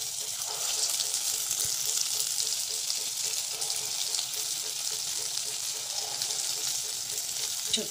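Asafoetida sizzling in hot oil in a kadhai, a continuous bright crackle held at a steady level with faint watery hiss and no speech.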